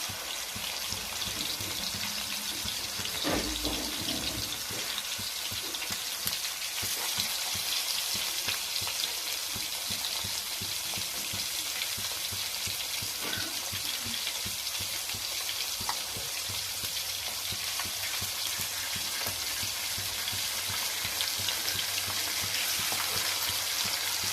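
Small sea fish frying in hot oil, giving a dense, continuous sizzle and crackle at moderate level, steady throughout with faint spatters and no talking.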